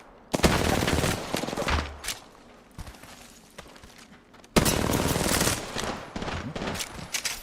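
A video game shootout fills the scene with a loud, dense gunfire burst lasting over a second. After a brief lull, a second sustained volley of rapid shots roars close and continuous.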